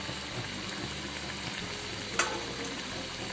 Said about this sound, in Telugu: మీడియం ఫ్లేమ్ లోనే మనం ఫ్రై చేసుకోవాలి వీటిని।